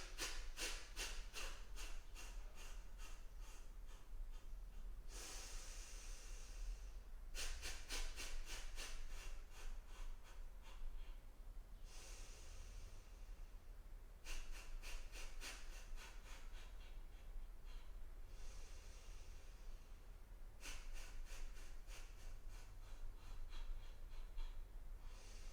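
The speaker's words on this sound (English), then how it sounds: "you're gonna take another inhale and exhale, do the same thing" Slow, deep breaths during a yoga workout alternate between long airy inhales and exhales, close and soft, with rhythmic textured passages between them.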